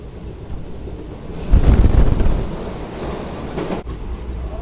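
A train rolls along on a monsoon journey, a steady low rumble with wind buffeting the microphone that swells into a louder rush for a second or two before settling back to an even drone.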